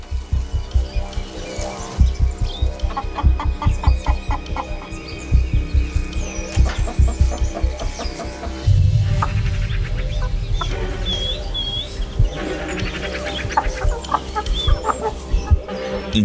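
Chickens cluck steadily inside a henhouse, a dense flock of overlapping clucks and short calls at close range with no talking.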